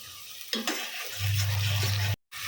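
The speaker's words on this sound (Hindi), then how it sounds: "मसला को आमे धीरे धीरे कषिबा" Masala spices with turmeric and salt stirred and sautéed in a cooking pan: a few scraping stir strokes, then a steady close sizzle that cuts out briefly near the end, with no talking.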